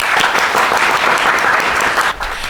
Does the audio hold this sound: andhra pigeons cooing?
no